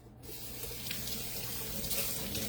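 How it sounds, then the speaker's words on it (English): Water runs steadily from a kitchen tap while something is rinsed off during food prep, a close, continuous rushing splash with no pauses. "Let me rinse this off"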